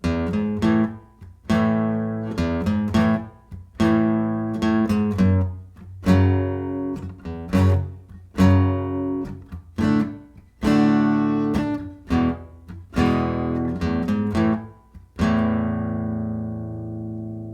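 Single plucked guitar notes trace a bass line in a steady, repeating rhythm, each note ringing briefly before the next, with the final note left to sustain and fade.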